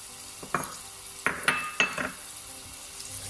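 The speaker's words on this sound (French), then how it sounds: "J'ajoute mes oignons." Onions hitting a hot pan produce a few bursts of sizzling and clattering, with scraping stirs in between and quiet gaps.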